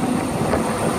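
A passenger train pulls out of Warwick station on the Chiltern line, giving a short, steady rumble of wheels and engine with a faint rhythmic clatter, close by and moderately loud.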